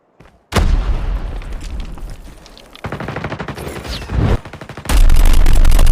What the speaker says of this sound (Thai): อย่างที่ทุกท่านได้ยินครับปืนผมยิงแบบดังมากเลยครับ